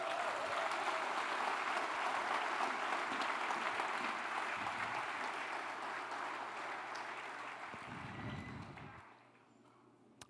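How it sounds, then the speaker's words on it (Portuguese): Applause from a church congregation during a sermon, a broad, steady roar of many hands clapping that gradually tapers and drops away near the end. "Dá um lindo aplauso a Jesus."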